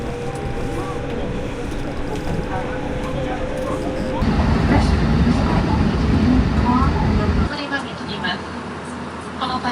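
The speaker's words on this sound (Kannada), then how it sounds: "ಎಸ್ ಬಂದಿದೆ ನೋಡಿ ಟ್ರೈನು" A Japanese commuter train bound for Kyoto pulls in and runs on, a steady broadband rumble that swells louder midway and then drops to a quieter hum, with voices murmuring nearby.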